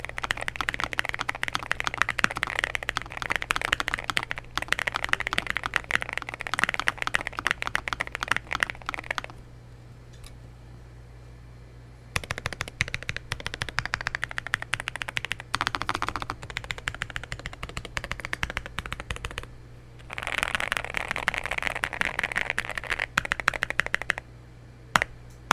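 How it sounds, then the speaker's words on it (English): Rapid typing on a Nuphy Nos75 mechanical keyboard with standard gaskets, dense firm clacking in long bursts broken by a few short pauses, close-miked and without talk. "With the standard gaskets or setup A, you'll get a firm typing experience"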